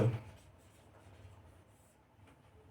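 Faint, steady scratching of someone writing on a board during a Class 9 maths lecture on quadrilaterals. A brief louder stroke opens a long, soft, continuous rub, with quiet room noise and no talking.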